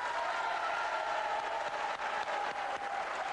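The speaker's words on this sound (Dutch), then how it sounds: "Uw applaus graag voor Bart Peters." A studio audience applauds a guest being welcomed onto a Flemish TV show stage, a steady, dense wash of clapping that carries on without a break.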